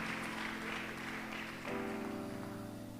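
A church congregation claps their hands in steady, dense applause during worship, with music and singing carrying on underneath.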